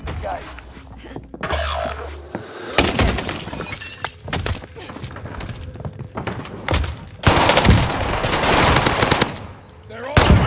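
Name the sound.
gunfire in Warzone video game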